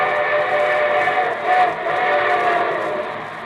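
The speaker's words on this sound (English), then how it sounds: "And here comes our star-studded show train." A train whistle sound effect from an old radio broadcast gives one sustained, bright, multi-tone blast that swells briefly in the middle and fades slightly toward the end, heard alone with no talking.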